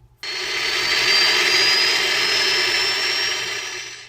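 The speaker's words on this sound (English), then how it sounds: "here's what it sounds like with this jet engine sound effect only" A jet engine sound effect roars in abruptly after a brief silence, holding as a steady, loud, hissing whine with a faint rising tone, then tapering slightly at the end.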